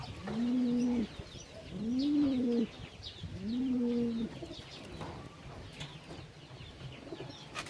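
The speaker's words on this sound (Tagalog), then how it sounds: "At parang kumonti na yung mga kalapati rito." Pigeons coo in three drawn-out, throaty phrases nearby, followed by quieter rustling and faint background sounds.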